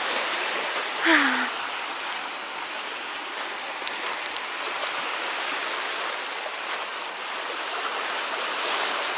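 Sea waves on the shore at Zelenogradsk make a continuous, even wash of surf that fills the whole stretch, with a brief faint tonal sound near the start.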